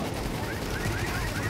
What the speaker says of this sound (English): I'm shooting the middle one right now.